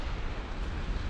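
Torpedo detonation in the naval warship game Ultimate Admiral Dreadnoughts: a dense, rumbling low boom that rolls on steadily for about a second without a sharp onset.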